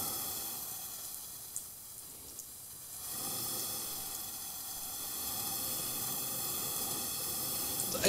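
A rare steam-powered motor vents a steady broadband hiss that swells louder after a brief lull, continuing alone without voices.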